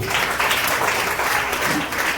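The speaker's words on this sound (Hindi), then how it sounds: "ताली बजाओ जोर से" A church congregation claps loudly during a service, a dense, continuous burst of many hands clapping at close range with no clear talk.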